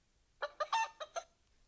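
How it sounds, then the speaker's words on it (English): A chicken clucks in five quick, close bursts, each sharp and brief, followed by quiet. "It's a chicken."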